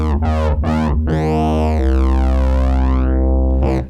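A Roland V-Combo VR-09 keyboard's synth section plays a loud distorted tone with a touch of flange and a resonant filter, its pitch jumping in short stabs and then sweeping up and down in long glides.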